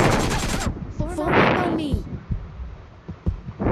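Gunfire from the Garena Free Fire battle royale game, a burst of sharp shots at the start followed by scattered louder pops, with a player talking over the action.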